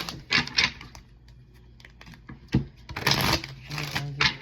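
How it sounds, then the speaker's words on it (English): A deck of playing cards is shuffled in several quick, crisp bursts of riffling and flicking close to the microphone, with short pauses between them. "We're gonna get this deck shuffled really well."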